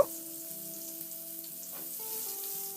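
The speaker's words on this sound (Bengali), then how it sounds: "পটলগুলোকে ছেড়ে দিয়ে পটলগুলোকে হালকা করে একটু ভেজে নেব" Pointed gourd (potol) pieces fry in hot mustard oil with a steady, even sizzle that runs the whole time, with faint steady tones humming underneath and no voices.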